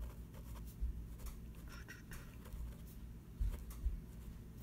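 Pencil or pen scratching across paper while gesture drawing, a soft continuous scraping with a few louder strokes, close and quiet with no voices.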